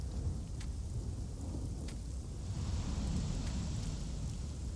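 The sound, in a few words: thunder and rain, Chronos: Before the Ashes video game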